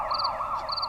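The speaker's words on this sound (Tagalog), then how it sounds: "sirina ti mobil dagiti pulis." A police car siren wails in a fast, rising-and-falling cycle, loud and close, with a higher-pitched tone layered on top in a second-long burst.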